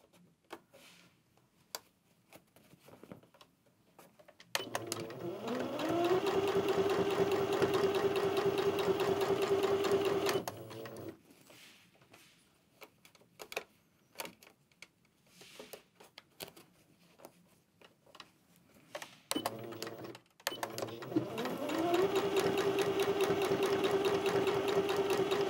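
A sewing machine stitches fabric in two steady whirring runs with a rising pitched motor whine, separated by quieter handling rustles and clicks as the fabric is adjusted.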